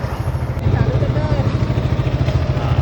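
A motorcycle engine runs at low revs during a gear-shifting lesson, with a steady rhythmic close-up putter, and people talk over it.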